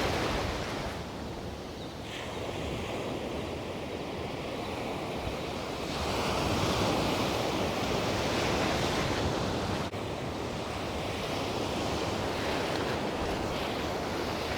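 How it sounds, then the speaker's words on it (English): Ocean surf rolling onto Ponte Vedra Beach, with a steady, full wash of breaking waves and wind rushing across the microphone. No one speaks, and the roar stays loud and even throughout. "we just kind of hang out and just watch the waves a little bit."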